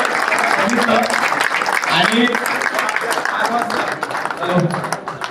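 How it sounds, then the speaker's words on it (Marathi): Crowd applause at a Shirdi Sai palki dindi gathering, a dense steady clapping wash lasting the whole stretch, with a voice talking over it. "जरा जोरदार टाळ्या पाटील साहेबांना"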